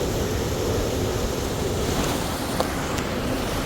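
Rushing water from a large waterfall near Manali, heard as a steady, dense roar throughout with some wind buffeting; no talk.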